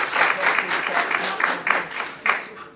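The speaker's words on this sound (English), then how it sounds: "the crowd are clapping with Dijak" A wrestling crowd claps for Donovan Dijak in steady rhythmic bursts, a fairly loud, reverberant arena applause with faint voices mixed in.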